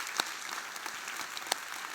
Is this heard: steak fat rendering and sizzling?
no